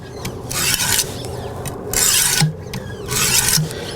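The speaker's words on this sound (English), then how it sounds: "we're going to do that until we can feel the knife getting smoother with this stone" A knife blade drawn across a 200 grit stone on a Wicked Edge WE130 sharpener, giving repeated loud abrasive rasping strokes in bursts with short pauses between them, close up and with no talk.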